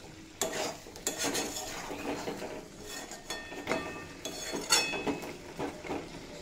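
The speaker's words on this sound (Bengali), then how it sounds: "এবার এড করে দেব আগে থেকে ভেজে রাখা আলু, দিয়ে 2-3 মিনিট মতো কষিয়ে নেব।" Pre-fried potatoes being stirred into a simmering Bengali mutton jhol in a pot, a spoon scraping and clinking against the metal in repeated close strokes over a soft background sizzle, with no talking.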